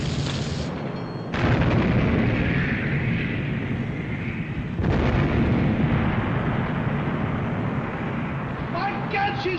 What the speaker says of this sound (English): My God, she's firing again! With another 2 turrets!